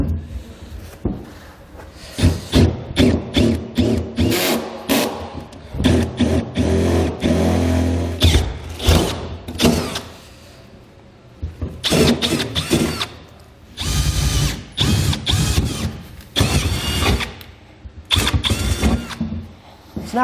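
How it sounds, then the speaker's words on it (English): A power drill with a 9/16 inch bit whines in repeated bursts, starting and stopping as it enlarges holes in a truck's metal frame rail, loud and close with short pauses between holes. "we're gonna take a 9/16 inch drill bit, we're gonna enlarge all of our holes to their final size."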